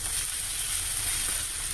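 Turmeric, cumin, coriander and chilli powder fry in a pan with a steady, soft, even sizzle, close by and unbroken, no voices.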